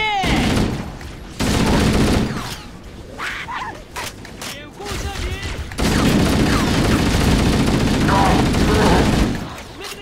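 Turret gunfire in Halo: Combat Evolved, sustained bursts of rapid shots and explosive booms in two long loud stretches with a quieter gap between, mixed with game voices and sound effects.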